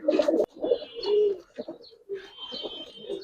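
Pigeons, silver and flying breeds, cooing close by in a loft, several soft throaty coos and rolling calls overlapping across a few seconds.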